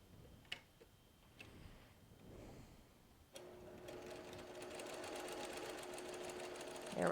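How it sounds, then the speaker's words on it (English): A sewing machine stitching quilt pieces together for a log cabin block. A few quiet handling clicks come first, then the motor starts with a rapid, steady mechanical whir and ticking. It is fairly close but soft. "come on over to the sewing machine and get these two pieces put together."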